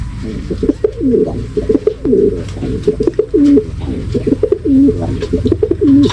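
Racing pigeons coo close by in repeated soft, throaty rolling calls that overlap one another in a steady rhythm, with light rustling underneath.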